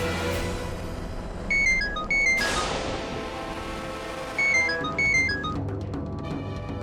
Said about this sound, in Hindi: फोन बज रहा है, फोन दो मुझे।